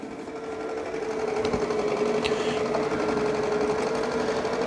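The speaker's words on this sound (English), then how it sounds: "you'll hear that LiDAR navigation underneath that matrix symbol going around" Shark Matrix AV2310AE robot vacuum running close by, a steady mechanical whir and hum with a faint high tone from the spinning LiDAR navigation, continuous throughout without talk.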